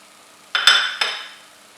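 A spoon strikes a cooking pot a few times while spiced potatoes with crushed pepper and garam masala are stirred, giving two or three quick, bright metallic clinks that ring out briefly against a quiet background.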